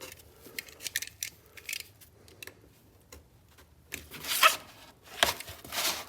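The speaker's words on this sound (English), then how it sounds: "we're just going to cut this out by hand with a razor blade." A razor blade draws by hand through material during work on a vintage Honda CM200T Twinstar motorcycle: faint scratchy ticks at first, then louder, harsher rasping strokes near the end.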